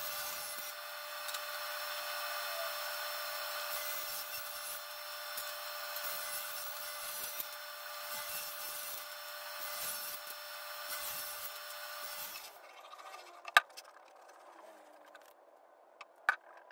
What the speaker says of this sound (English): cut some strips out of this 1/2 inch plywood I've got here